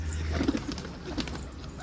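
Pigeons coo in soft, low bursts near a rooftop loft where racing pigeons are released, a few brief murmuring calls over steady outdoor background noise with no talking.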